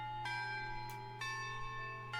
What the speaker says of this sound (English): Anyway, bell rang.